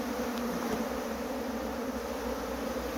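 Honeybees swarm around an opened hive with a little smoke in use, their dense, even buzzing droning steadily and fairly close with no talk.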